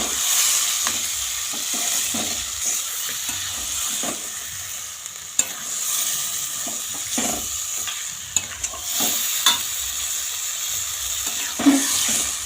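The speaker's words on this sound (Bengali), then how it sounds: "এবার এই মাংসটাকে একটু কষিয়ে নিয়ে" Meat with onions being stirred and fried in a pan, a continuous sizzle punctuated by repeated scraping strokes and occasional clinks of the spoon, close and without talk.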